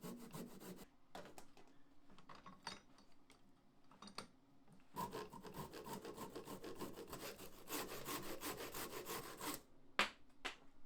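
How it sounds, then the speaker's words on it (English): A hand saw cuts the top off a small wooden piece in quick rasping strokes, pausing briefly before a longer, denser run of close sawing that ends with a few last strokes. "Time to ruin it by cutting the top clean off."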